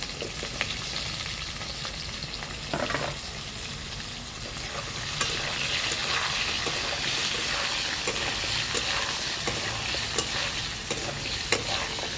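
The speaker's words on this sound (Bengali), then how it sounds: "এবার আমি আলুটা ভেজে নেব।" Potatoes fry in a pan, giving a steady, close sizzle with scattered clicks and scraping stirs throughout and no talking.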